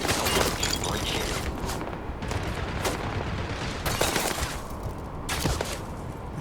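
Gunfire from enemy combatants in a video game, dense bursts and sharp cracks repeating throughout at close to mid range, fairly loud with a busy, continuous battle texture.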